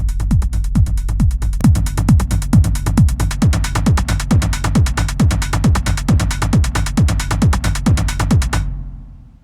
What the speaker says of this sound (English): And then I get the proper underground Detroit techno sound.